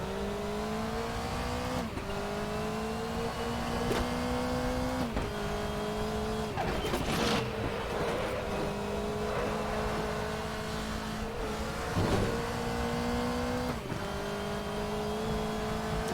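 Group C race car in RaceRoom at the Nordschleife, its turbocharged engine droning loudly with repeated upshifts and dips, a burst of tire and turbo noise midway, no voices heard.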